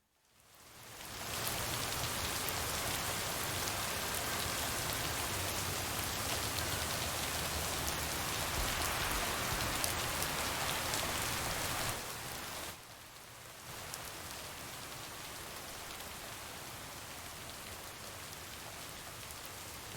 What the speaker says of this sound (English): Listen to the rain, which is really, really good.